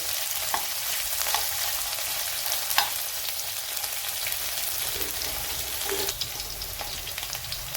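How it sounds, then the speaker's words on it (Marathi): Green chillies sauté and sizzle in a hot pan, a steady close crackle of frying with occasional louder pops and stirring clinks, no voices. "आधी हिरवी मिरची आपण परतून घेऊ"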